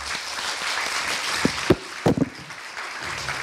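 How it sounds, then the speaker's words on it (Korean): An audience at a Korea University dialogue event applauds Professor Han Jae-hong. The clapping is moderate and continuous, and a few sharper knocks stand out near the middle. "오늘 우리 한재홍 교수님께 한번 큰 박수 주십시오"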